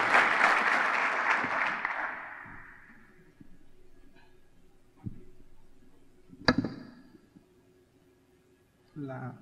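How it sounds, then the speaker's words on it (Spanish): An audience at a panel on RPKI origin validation gives a presenter a short, full burst of applause that fades within a couple of seconds, leaving a quiet room with a few knocks and handling sounds. "Un aplauso para Mauricio"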